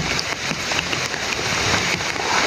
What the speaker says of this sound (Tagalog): Lakas ng ulan mga tol.